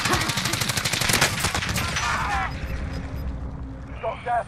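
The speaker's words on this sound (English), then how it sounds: "There's people firing at me." Rapid bursts of automatic gunfire crackle loudly in Call of Duty Warzone, dense at first and then thinning into scattered shots, with a player's voice talking over the battle.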